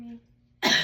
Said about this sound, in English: can you cough for me?